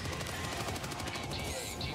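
Rapid gunfire from Helldivers rattles in a dense, continuous burst of shots, fairly faint and steady throughout the short stretch.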